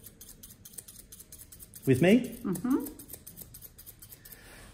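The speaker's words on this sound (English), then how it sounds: "I'm letting the scissors do the work because it's still a round circle" Scissors cut hair during a salon haircut, giving a close, crisp snipping that runs through the whole moment, with a short bit of talk in the middle.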